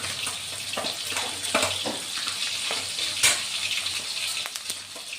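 Salt, turmeric and garlic fry in oil in a pan for a taro-leaf greens dish, a continuous close hiss broken by scraping stirs and occasional louder crackles.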